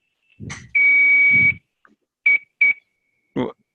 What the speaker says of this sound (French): Attends, le téléphone de Valérie.